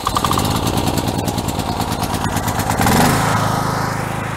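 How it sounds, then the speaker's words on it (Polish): A small petrol engine on a Kruzer TH 8000 E generator sputters to life on first start and runs with a loud, rapid chugging close by, its pitch shifting as it settles. "No to pora na pierwsze uruchomienie silnika."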